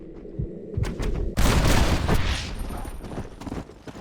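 Gunfire rings out in the western game Red Dead Redemption, a few scattered shots followed by a heavy, booming volley that rumbles and decays, with muffled background noise throughout.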